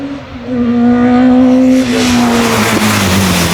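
A turbocharged, bored-out Peugeot race car roars loudly at close range during a Curborough sprint, its engine note holding steady and then shifting down as it passes with a rush of tyre and wind noise.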